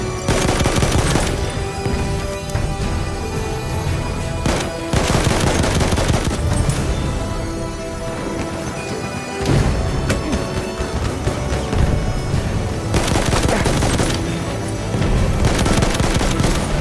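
Sustained video game gunfire on the Soissons map, loud and dense, with bursts of automatic fire and heavy booms throughout and brief dips between volleys.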